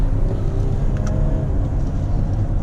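A 2018 Audi Q8 50TDI accelerating hard in dynamic mode on an open road, its diesel engine a steady, loud, low droning rumble heard from inside the cabin, with road noise throughout and no voices.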